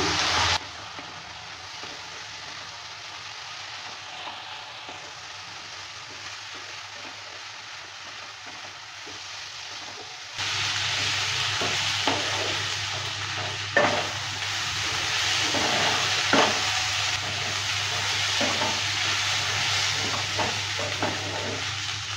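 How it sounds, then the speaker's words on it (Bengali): Broken wheat (daliya) frying in a pan while being stirred: a steady close sizzle that grows louder partway through, with scraping clicks from the stirring and no voices. "ডালিয়াটা দেওয়ার পরও ভালো করে নেড়ে চেড়ে নিচ্ছে"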